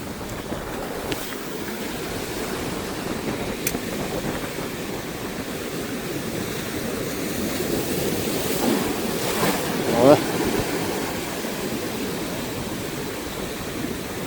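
Stormy ocean surf crashing under strong wind, a continuous rough wash of breaking waves with heavy wind buffeting on the microphone, loud and close throughout.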